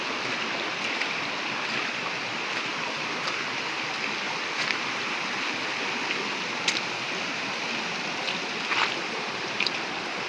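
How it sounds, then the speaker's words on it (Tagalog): A mountain river flows along a hillside trail, with steady broadband rushing water close by and a few faint clicks over the continuous wash. "Ito yung ilog guys na sinusundan natin"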